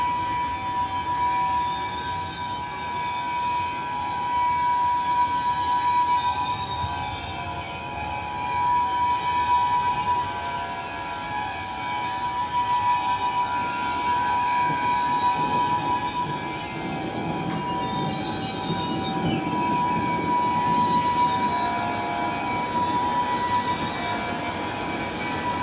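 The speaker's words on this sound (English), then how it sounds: "It's a full speed train, I think." A train passes at full speed during a lightning storm, a loud sustained rumbling roar with steady high whining tones running throughout, heard from nearby without voices.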